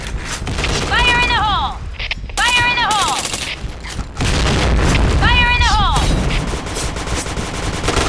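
Grenade blasts and rapid gunfire in a shooter video game, loud booming explosions mixed with bursts of shots, while a voice repeatedly shouts a game callout over the action.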